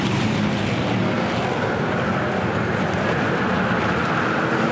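NASCAR Craftsman Truck Series trucks race through a corner at Mid-Ohio, a loud, dense, continuous roar of engines that holds steady throughout without a break.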